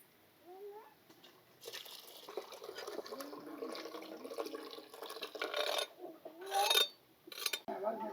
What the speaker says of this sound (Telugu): ఇప్పుడు పాలు పోసేసుకుంటున్నాం